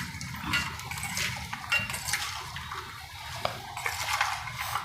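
Peanuts stirred with salt in a pan, giving scraping, rattling clinks of nuts and utensil against the metal in an irregular, fairly soft rhythm.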